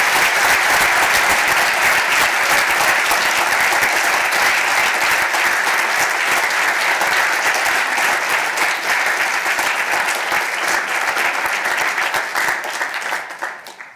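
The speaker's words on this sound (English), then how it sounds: "Please join us in giving them a much-deserved round of applause." Loud, sustained applause from a large audience at a model UN conference opening ceremony, a thick wash of clapping that holds steady for over ten seconds before quickly fading out.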